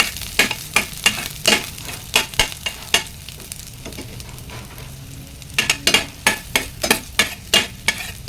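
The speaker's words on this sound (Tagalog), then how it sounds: "And guys, mainit na yung mantika natin. Lagay natin ang ating bawang." Garlic dropped into hot cooking oil for chicken afritada makes a steady background sizzle, with sharp stirring clacks against the pan coming in quick bursts near the start and end and a quieter stretch between.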